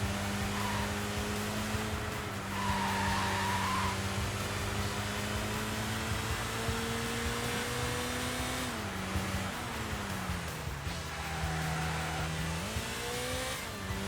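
Racing-game engine drone from a four-wheel-drive Evo in Sega GT, steady and loud throughout as the car slides, with pitch dips and shifts around the midpoint and brief higher tire-scrub tones layered over the engine.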